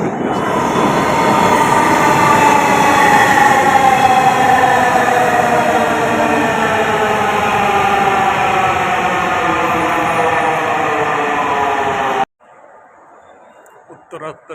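A metro train arrives at Uttara North station in Dhaka with a loud, close whine of rising motor tones over a steady wheel rumble for about twelve seconds, then it cuts to quieter station ambience.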